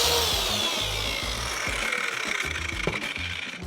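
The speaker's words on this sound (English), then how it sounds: "So now I can go ahead and cut this sacrificial strip" A WEN track saw cuts a sacrificial strip along its track, with a loud continuous motor whine and cutting noise running close up throughout, no talk.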